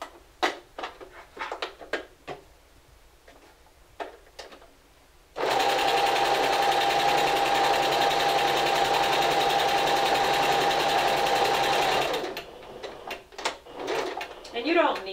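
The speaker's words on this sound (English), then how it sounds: "Again, sew over to the tailor tack." A sewing machine stitches fabric for a Simplicity 1562 garment in one loud, continuous run of about seven seconds. Quieter handling clicks and rustles come before and after the run.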